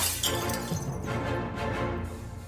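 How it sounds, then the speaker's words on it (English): A glass window smashed with a lamp, a loud shattering crash with breaking glass that carries on through the whole moment, with no talking. "Jordan smashes the window with the lamp and climbs out, cutting his hands on the glass"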